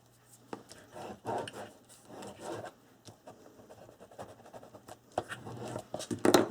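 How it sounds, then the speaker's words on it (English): A tool burnishing a crease into folded paper on a craft calendar album, heard as soft, close rubbing and scraping strokes in short bursts, quiet overall and getting louder toward the end. "Burnish that."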